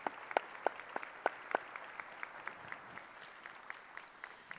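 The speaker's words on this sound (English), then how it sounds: "Let's give a round of applause" A small breakfast crowd gives a round of applause for the sponsors at a Clean Lakes Alliance community event, starting with several sharp, distinct claps up close and thinning to scattered, quieter hand claps.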